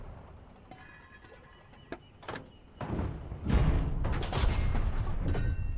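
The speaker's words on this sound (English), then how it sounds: "Gun shot." Gunfire in the WWII tank game Call to Arms: Panzer Elite: a few sharp cracks early, then a heavy booming blast followed by sustained rumbling, rising from faint to loud.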